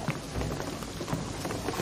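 Steady rain falling in the video game Shadow of the Tomb Raider, a dense continuous wash of drops with a low rumbling undertone, evenly loud throughout and with no voices.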